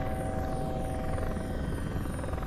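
Helicopter flying in the Prepar3D V5 flight simulator on a route from Van Nuys to Long Beach, a steady loud rotor and turbine drone with a constant whine, unbroken throughout.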